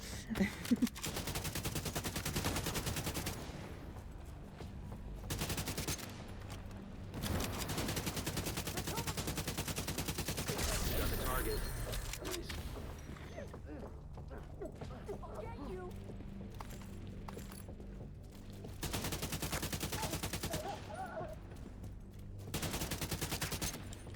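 Gunfire in The Division 2, Battle for Brooklyn: bursts of rapid shots fairly quiet in the mix, broken by short gaps, with a voice talking in between.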